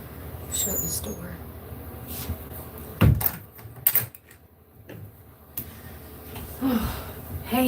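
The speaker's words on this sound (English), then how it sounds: "Shut this door." A household door swings shut with a sharp close near the middle, loud and close, amid rustling and handling noise around it, with no one talking.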